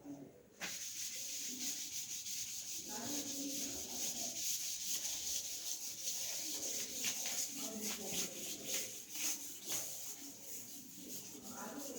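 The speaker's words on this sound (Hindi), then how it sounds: "तो इसे मैं रब करने जा रहा हूँ" A board is rubbed clean during an electronics lesson on transistors, giving a steady, close scrubbing and swishing that runs almost the whole time with short bursts of strokes, while a voice talks faintly underneath.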